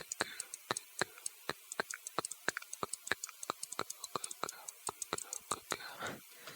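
Keys on a clicky keyboard are tapped close to the microphone in a steady, fast run of crisp clicks. A soft whispering voice drifts underneath.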